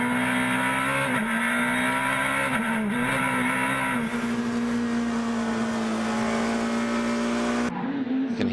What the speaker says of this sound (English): You can hear the car not pulling quite so hard there.